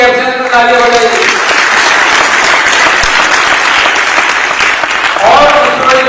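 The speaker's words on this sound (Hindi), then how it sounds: "जरा उनके लिए उनकी एब्सेंस में तालियां बजाइए" Loud, sustained audience applause fills a university seminar hall during an Ambedkar Jayanti event in Jaipur, continuous and dense throughout, with brief speech at the start and end.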